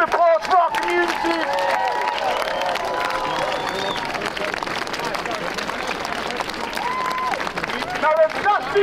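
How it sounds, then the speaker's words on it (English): A crowd at a street rally in Liverpool claps and cheers, with loud, continuous applause and a babble of voices running under it for several seconds. "Can we have a round of applause for our community?"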